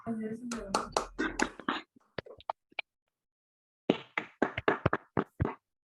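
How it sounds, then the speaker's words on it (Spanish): Scattered, sparse claps and taps come through open microphones from an online audience at a Spanish-language academic talk on quantum correlations, following a voice and a pause, with a second cluster of several claps. "les invito a los que están presentes a abrir su micrófono y dar un aplauso a nuestro invitado"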